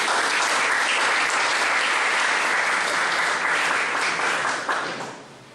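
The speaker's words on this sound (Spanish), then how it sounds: "pido para también un fuerte aplauso" Strong, sustained applause from a lecture audience at a university constitutional history conference in Peru, a dense even roar of many hands that tapers off in the final second.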